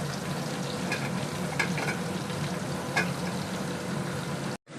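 Spices and mango for mango chutney frying on a hot pan give a continuous close, dense sizzle, broken by a few stirring scrapes before cutting off abruptly at the end.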